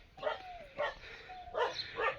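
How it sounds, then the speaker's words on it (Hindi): A dog in Kharkola, a hill village in Pauri Garhwal, barks in short bursts with a thin whining tone between them, at a moderate distance and fairly quiet, against soft outdoor ambience. "कुत्ता भौंक रहा"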